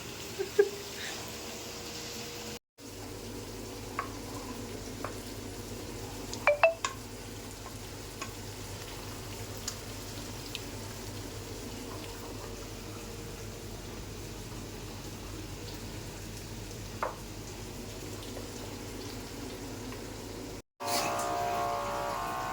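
A faint, steady sizzle of shrimp frying in a pan, with a few light clicks and scrapes over a low background hum.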